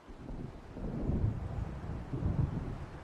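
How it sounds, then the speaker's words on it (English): Low, rolling thunder from an approaching storm in the video game Alan Wake rumbles faintly in two broad swells, with a soft windy hiss underneath and no talking. "It seems there's a storm coming"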